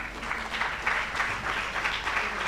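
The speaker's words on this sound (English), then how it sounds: "Let's give him a round of applause." An awards ceremony audience claps steadily for a few seconds, a dense even applause filling the room at moderate volume.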